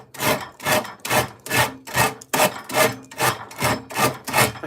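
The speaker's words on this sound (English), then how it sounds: "I find I remove a lot more wood going against the grain than with it" A double-handled push rasp works a maple selfbow, about ten steady rasping strokes in even rhythm, each a broad coarse scrape of metal teeth across wood, close and loud with no talking.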